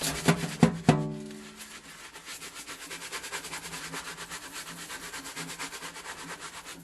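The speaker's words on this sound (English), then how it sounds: "You can just take your finger and scrub it." Scrubbing a rubber stamp back and forth on a Stampin' Scrub pad from Stampin' Up!, a soft, rhythmic rubbing close by that follows a few sharp taps at the start and keeps a steady stroke pace throughout.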